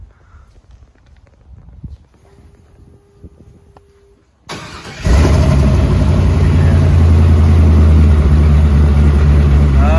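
A truck fitted with a 6-liter LS V8 cranks and catches after a few seconds of quiet shuffling, then settles into a loud, steady, close idle that fills the rest of the clip.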